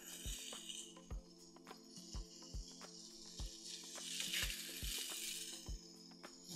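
Sausage sizzling in a frying pan, a steady crackling hiss punctuated by sharp pops and clicks at irregular intervals, close and fairly quiet with no talk.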